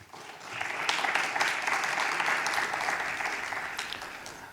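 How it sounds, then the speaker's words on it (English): Audience applause at a global health forum, clapping that swells quickly after a brief start and holds steady, moderately loud, throughout. "Please welcome him with a round of applause."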